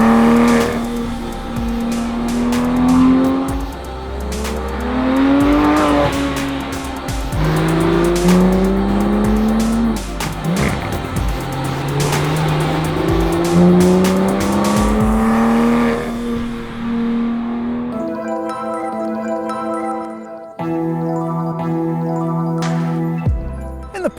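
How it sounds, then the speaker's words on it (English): A Porsche 911 GT3 driven hard on Swiss mountain roads: a loud flat-six revving up through the gears in repeated rising sweeps with quick gear changes, then settling into steadier, throbbing high-rpm notes, close and continuous. "can you have fun on the road in a 911 GT3"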